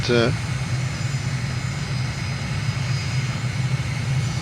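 A light aircraft's engine rumbles steadily through its takeoff roll in a flight simulator game, a loud, continuous drone with a short rising tone at the very start and no voices.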